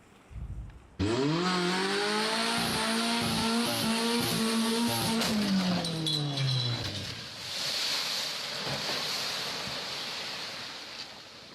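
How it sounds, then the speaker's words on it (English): A car engine roars and revs loudly as the car drives off a wharf in a deliberate stunt in Nova Scotia, then gives way to a long wash of water and surf noise, with no talking. "He drove the car, as you just saw, off that wharf on purpose."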